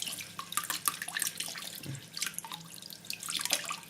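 Running water splashes and drips in a sink as beef tripe is washed, a faint, irregular patter of trickles and small splashes with no talking.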